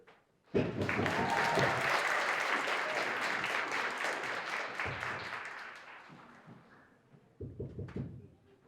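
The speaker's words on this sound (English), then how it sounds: "I want y'all to get the biggest clap to Tommy as he comes to the stage" An audience at a cultural stage event bursts into sustained, loud applause that gradually thins and fades, with a brief renewed flurry of clapping near the end.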